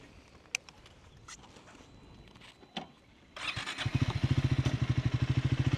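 A Triumph 400X Scrambler motorcycle starts up after quiet outdoor ambience with faint bird calls, then settles into a loud, steady, rhythmic single-cylinder idle close by.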